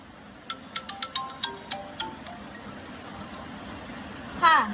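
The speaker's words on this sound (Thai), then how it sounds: "เราจะนำโทรศัพท์อีกเครื่องหนึ่งโทรไปหาอีกเครื่องหนึ่งนะคะ" A mobile phone rings as a second phone calls it during a classroom demonstration of electromagnetic waves, giving a quick series of short descending electronic beeps and then a brief warbling tone over a quiet room hum.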